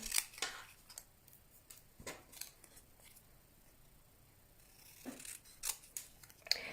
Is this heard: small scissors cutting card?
yes